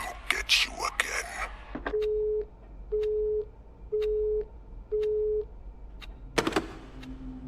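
In the video game LUTO a telephone busy signal sounds four times, steady evenly spaced tones, with a voice and some clatter before and after.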